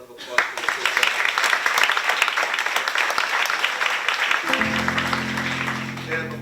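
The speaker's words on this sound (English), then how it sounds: "So let's give a nice round of applause for the kids." An audience applauds student athletes at a school event, dense sustained clapping at fairly close range that fades slightly toward the end as a low electronic tone enters.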